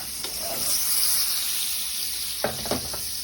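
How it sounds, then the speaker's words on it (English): Butter sizzles in a pan at the start of a pasta sauce for kielbasa and shrimp penne, a soft steady hiss under a faint clink or two near the end. "So we want to add butter to our pan."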